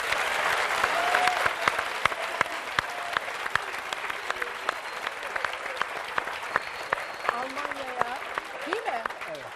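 Studio audience applauds steadily throughout a Turkish television music show, a dense continuous patter of clapping with sharp individual claps, while a voice talks over it.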